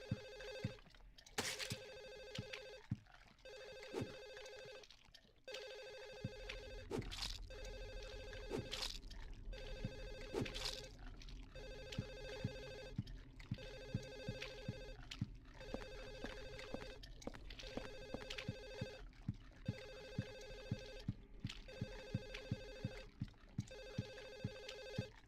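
Telephone in the Silent Hill 4 video game ringing over and over in regular bursts, loud and insistent, while a low droning game ambience swells beneath it partway through.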